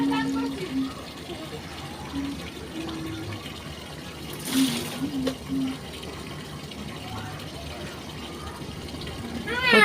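Water splashing and pouring as someone bathes seated on a stool on a hot day, intermittent wet sloshes and a brief louder gush midway, with voices talking over it.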